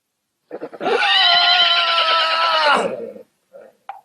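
In an animated film, a horse gives one loud, long whinny close up that rises, holds for about two seconds and trails off, followed by a couple of soft snorts.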